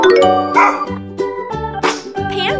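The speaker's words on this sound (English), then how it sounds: "Dog." A dog barks in a short series of loud, close, tonal yaps, alone, with no talk over them.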